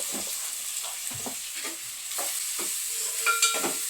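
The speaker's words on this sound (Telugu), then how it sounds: "ఉల్లిపాయలు తొందరగా వేగడం జరుగుద్ది" Onions fry in oil with turmeric and salt, giving a soft, steady sizzle broken by scraping stirs of a spoon against the pan.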